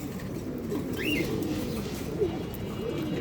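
Domestic pigeons at a pigeon farm cooing in soft, repeated low murmurs, with a brief higher chirp partway through, against a steady background of flock noise.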